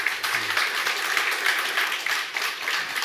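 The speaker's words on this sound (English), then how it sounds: "Round of applause for Saulius Urbanas." Applause from a conference audience at an international cadastre data event, steady, even clapping at moderate volume, continuous throughout with no voices over it.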